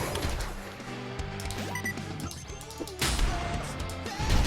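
A double-trigger explosion goes off in the video game Rebel Engine, a loud, harsh burst mixed with gunfire-like cracks and rumbling game effects, with no talk over it.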